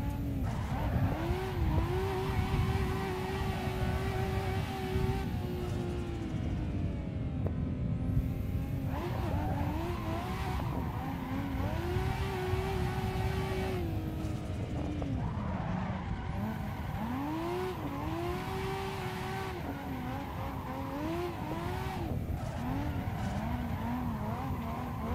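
In Assetto Corsa, a car slides under a pedal-operated handbrake, its engine revving up and down while long wavering tire squeals rise and fall throughout, with no talking.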